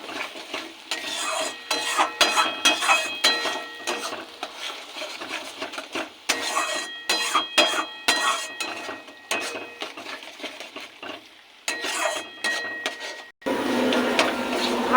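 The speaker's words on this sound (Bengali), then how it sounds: "এটাকে ভালো করে ভেজে নেব তেল ছাড়া পর্যন্ত।" Gourd peel paste with turmeric and a little sugar fries in a pan, a spatula scraping and stirring in steady, irregular strokes with a soft sizzle underneath, close and fairly loud, no talking.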